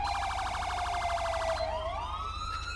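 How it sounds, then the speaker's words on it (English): A GTA V ELS police siren runs in dual mode, with a fast yelp warbling over a wail that then sweeps up. It is loud and continuous, with no talking. "I will get my wail going with my yelp"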